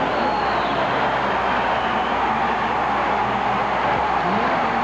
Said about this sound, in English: Dennis Anderson's 1950 Chevrolet that has become a nationwide phenomenon, Gravedigger.